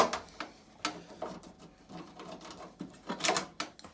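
Removing screws from the panel of a Beko condenser dryer during a repair, heard as a run of small, close clicks and ticks with irregular scraping taps spread across a few seconds and no talk.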